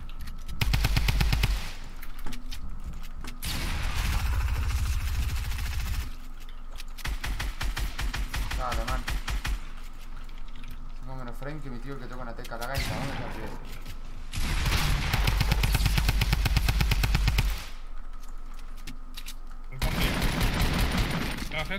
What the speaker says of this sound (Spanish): ¿Por qué me disparás, brother?